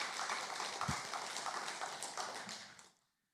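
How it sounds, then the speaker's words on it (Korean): A church congregation at an Easter Sunday worship service gives the choir dense, warm applause that fills the room evenly for about three seconds, then stops abruptly into silence. "성가대원들에게 여러분 축복의 박수 한번 뜨겁게 해주시면 감사하겠습니다"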